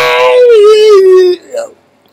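A voice mimics a dissonant modern choral carol: one loud, wavering, sustained sung note that slides down for over a second, followed by a short, faint yelp-like tail.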